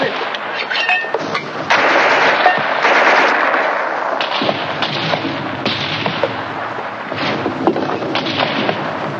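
Mortar and battlefield gunfire from a 1950s war film rumble in a dense, continuous barrage of thumps and crackling blasts, with a few voices faintly under the din.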